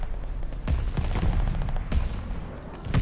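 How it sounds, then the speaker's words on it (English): Explosions from a called-in bombing run in Call of Duty Vanguard, several heavy booming blasts spaced irregularly over a continuous rumble of battle noise and gunfire. "Allies called a bombing run."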